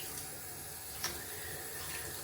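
Tap water runs steadily while shaving soap suds are rinsed off, a continuous faint hiss of flowing water with one small splash partway through.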